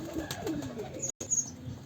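Soft low coos from a female Lal Pari high-flyer pigeon murmur in a quiet room, a few rounded calls close by with a brief gap midway.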